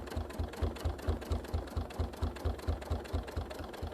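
A domestic sewing machine stitches steadily along a ruler, its needle thumping in a fast, even rhythm of about four strokes per second, close and continuous with no talking.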